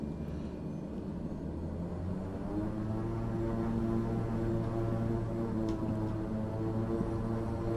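A propeller aircraft engine at full RPM in Microsoft Flight Simulator drones steadily and loud, its tone rising slightly in pitch and holding a constant rumble throughout.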